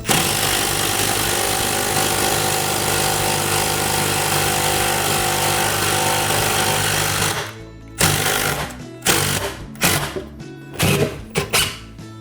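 A drill fitted with a bit extender drives a screw into a wall behind a subway tile backsplash, a loud sustained motor whine that then breaks into several short stuttering bursts as the screw seats.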